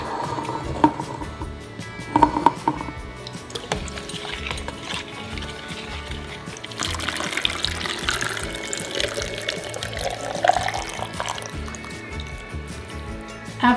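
Tap water pours and splashes into a fermentation vessel being filled with salt brine for pickles, a steady close running flow with occasional clinks and drips.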